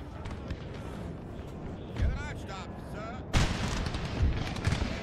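Musket volleys and artillery fire from the Napoleon Total War battle game rumble in dense bursts, a sustained wall of distant booms with a louder sharp barrage near the end, under speech from a player.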